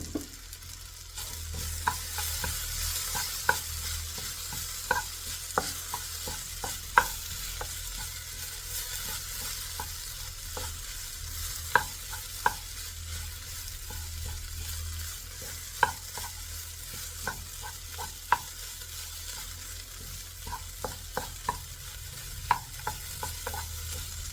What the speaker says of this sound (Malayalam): തേങ്ങ ചതച്ചത് ചേർത്ത് കൊടുത്തിട്ടുണ്ട് ഇനി നന്നായി ഇളക്കി കൊടുക്കണം